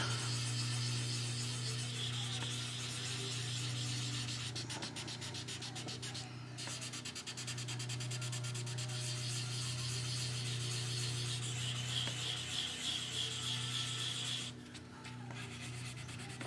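Rubbing by hand on the clear finish of a DIY thinline Telecaster guitar body to work out a small blemish: a steady, close scrubbing sound over a constant background hum, with no talking.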